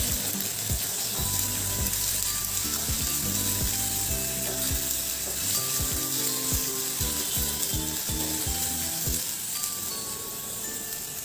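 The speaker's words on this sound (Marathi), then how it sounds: "आता मी यामध्ये 1 चमचा आलं लसूण पेस्ट घालते. ती सुद्धा आपण छान परतून घेणार आहोत." Ginger garlic paste fries in hot oil with a steady close sizzle, broken by repeated sharp clicks and scrapes of a spoon against the pan.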